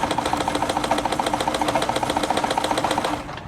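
A Brother Opus 211 sewing machine stitches in reverse, its needle hammering in a fast, steady mechanical rhythm at close range before slowing and stopping near the end.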